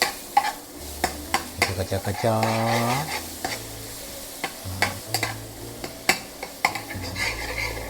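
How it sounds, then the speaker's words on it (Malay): Garlic and shallots stir-fried in a pan, a steady sizzle punctuated by rapid metallic scrapes and taps of a spatula against the pan, close, with a brief tonal squeal midway and low hum beneath. "mula-mula kita masukkan bawang putih, bawang merah ni ya, kita kacak-kacak"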